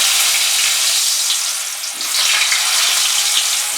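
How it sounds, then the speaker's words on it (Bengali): Potato pieces fry loudly in hot mustard oil in a kadai, a bright continuous sizzle with a brief dip as they're stirred, close and without talk. "সবার প্রথমে আলু টুকরোগুলো আমি ফ্রাই করে নেব"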